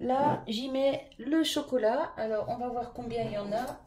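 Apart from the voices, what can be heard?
None of the usual background noises is heard.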